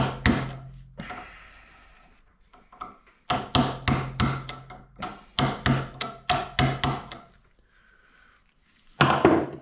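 A screwdriver used as a punch is hammered against a U-joint on a 2001 Chevy S-10, giving close, sharp metallic strikes in quick bursts of several blows with short pauses between them, and no talking.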